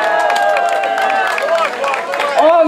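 A crowd at the Anianpellon market event in Vääksy applauds athlete Hannu Lepistö: steady, loud clapping and crowd noise that stays under prominent voices throughout.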